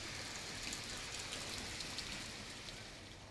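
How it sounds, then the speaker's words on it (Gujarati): Heavy monsoon rain pours steadily over Bhavnagar, a soft, even hiss of water falling on surfaces that holds at a low, distant level throughout, with no voices. "ગ્રામ્ય વિસ્તારોમાં પણ સતત વરસાદ છે"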